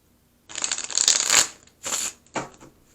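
Tarot-style advice cards for a reading are shuffled up close, heard as a crisp riffling burst followed by two shorter shuffles, with quiet surroundings.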